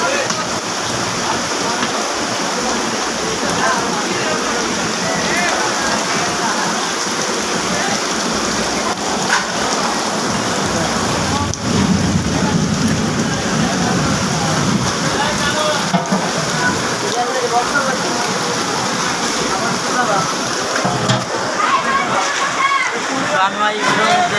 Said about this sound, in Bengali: বৃষ্টি পড়তেছে উড়া দূরে গিয়ে